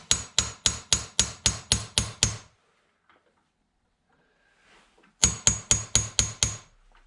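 A hammer stakes a castle nut on an AR lower receiver: a run of about eight sharp, evenly spaced metal strikes, a quiet pause, then another quick series of about seven close, loud blows.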